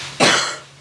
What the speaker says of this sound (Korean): 기침해도 됩니다.